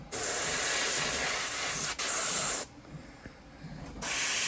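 An Eclipse airbrush spraying paint gives a loud, steady broadband hiss in long bursts, cutting out briefly near two seconds, falling quiet for over a second, then starting again near the end.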